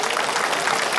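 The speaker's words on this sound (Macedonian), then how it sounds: "Уште еден сакам аплауз." An outdoor crowd at a public ceremony and speech applauds, a steady wash of clapping at moderate volume throughout.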